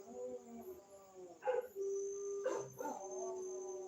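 Dogs howl in long wavering tones, broken by a few sharp barks and yips, fairly quiet and close, with no talk over them.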